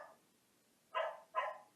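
A dog gives two sharp, close barks in quick succession after a brief faint yip, with quiet gaps between them and no one speaking.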